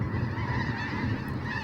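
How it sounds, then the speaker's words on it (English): A flock of snow geese and Canada geese honk at a wildlife refuge, a dense overlapping chorus of calls, loud and continuous, with no pauses or talking. "we've got Canada geese, we've got the snow geese"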